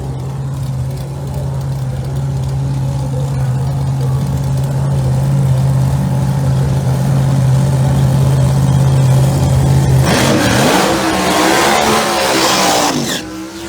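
Outlaw Pro Mod drag cars at a racetrack: a loud steady engine drone holds for several seconds, then bursts into a harsh, rising full-throttle roar as the cars launch and tear down the strip.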